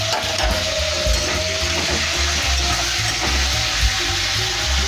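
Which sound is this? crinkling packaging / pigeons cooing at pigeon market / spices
spices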